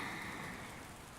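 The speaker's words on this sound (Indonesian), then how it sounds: "Hujannya nggak berhenti-berhenti ya" Steady rain falls through a quiet night, a soft continuous hiss of drops on surfaces with no voices and no breaks across the short stretch.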